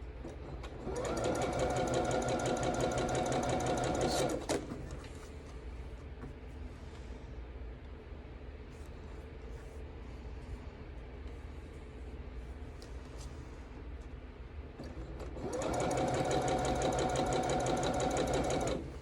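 A sewing machine stitches quilt patches in two fast, steady runs of rhythmic whirring separated by a quieter pause with faint handling noise, close and loud, with no voices.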